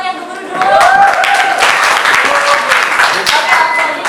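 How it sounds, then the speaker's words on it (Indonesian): Audience applause from a class debate on evolution theory, a dense wash of clapping held at a steady level for about four seconds, with some voices mixed in. "kita bisa beri tepuk tangan yang gemuruh dulu"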